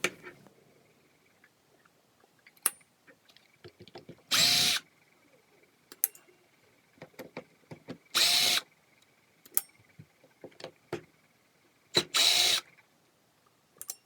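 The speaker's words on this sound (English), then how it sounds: "you have to take out these 4 screws here" A power screwdriver backs out the four casing screws on a MaxShine The Master 15 mm 900 W orbital polisher, giving three short, separate whirring bursts with faint handling clicks and taps in the quiet gaps between them.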